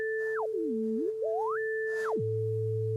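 Two pure electronic sine tones from a Mutable Instruments Elements synthesizer, one holding steady while the other glides down, back up, then drops to a low hum.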